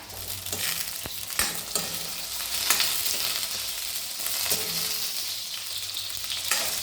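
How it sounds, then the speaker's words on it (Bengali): Eggplant sizzles in oil for Bengali neem sukto, a constant crackling fry broken by a few sharp knocks of stirring. "বেগুনটা আমার ভাজা হয়ে এলো"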